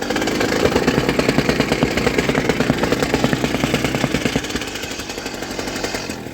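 A Wacker BS60-2 vibratory rammer runs steadily, its small engine pounding out a fast, rough, regular thumping rattle, loud and close throughout, easing slightly toward the end, with no voices.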